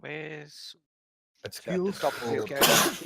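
A single sharp sneeze bursts out early, set among people chatting over a tabletop role-playing game session, with talk resuming after a brief silence.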